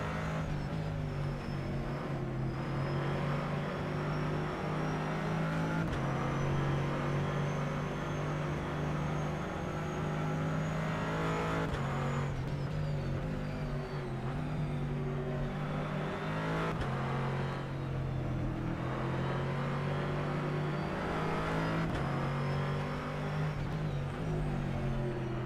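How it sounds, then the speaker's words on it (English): Corvette race car in a sim racing game at Spa, its engine loud and continuous with rising and falling revs through gear changes as it powers down toward Blanchimont, no talk over it. "Corvette really does have a lovely sound to it, don't you think?"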